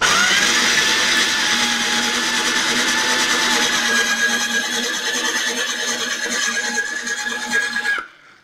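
An ice shaving machine grinds steadily through ice, a loud continuous whirring drone with a high whine riding on top that holds for several seconds and then abruptly stops.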